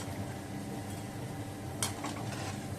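Vada fry in hot oil with a steady, dense sizzle and are lifted out, with one brief metallic clink partway through.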